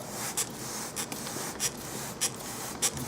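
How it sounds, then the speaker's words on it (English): Short hissing bursts of coil cleaner sprayed onto an aluminum coil, five quick spritzes spaced about half a second apart, close and fairly quiet. "So I'm going to hit with the Calibrite here."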